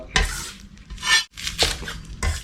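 Loud, close crackling crunches in several bursts, like crispy deep-fried tofu skin rolls with pork filling being broken or bitten, with brief pauses between.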